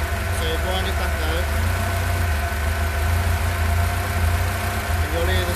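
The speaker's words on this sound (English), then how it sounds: "you'll hear the cylinder drop" A four-cylinder engine with twin Weber/Dellorto DCOE/DHLA carburettors idling with one cylinder dropping out, giving a steady, slightly uneven low rumble close by, with someone talking over it.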